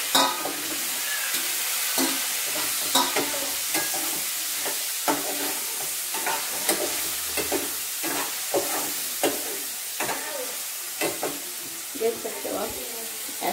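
Tomatoes stirred into potatoes frying in a pan, a steady sizzle broken by repeated scraping and clacking stirring strokes at an uneven pace, close and fairly loud, with no talking.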